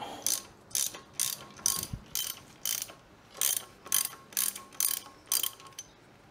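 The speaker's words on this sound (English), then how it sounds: "Get this lower shock bolt off," A hand ratchet clicking in about a dozen evenly spaced strokes as the lower shock bolt comes off a 1992 Kawasaki KX125 motocross bike, close and fairly quiet with no talking.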